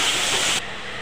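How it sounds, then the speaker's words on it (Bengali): Water poured into hot, nearly fried spice paste in a pan, a loud bright hissing sizzle that cuts off abruptly into a quieter simmering hiss. "এবার আমি পরিমাণ মতন জল দিয়ে দেবো।"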